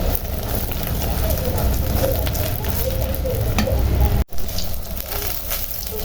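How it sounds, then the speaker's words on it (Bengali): An egg fries in hot oil in a home kitchen pan, giving a loud, steady, close sizzle and crackle with a brief break near the end. "এখন ওর জন্য ডিম ভেজে নেব"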